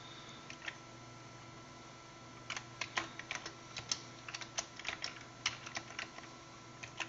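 Typing on a Commodore 64 keyboard, quiet irregular key clicks that start sparse and become a steady run of clacks, with a faint hum underneath and no talking.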